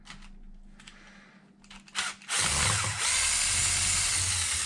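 A power driver whirs loudly and steadily as it backs screws out of the center brace on an Arrma Infraction twin-motor RC car, following a few quieter handling clicks.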